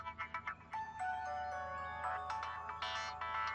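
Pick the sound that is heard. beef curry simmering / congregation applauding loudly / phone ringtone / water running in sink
phone ringtone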